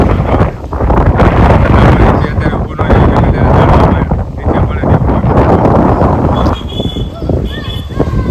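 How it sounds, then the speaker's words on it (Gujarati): A strong, dust-raising wind roars and gusts against the microphone throughout, with voices partly buried beneath the rumble. "ડમરી દેખાય પવન છે"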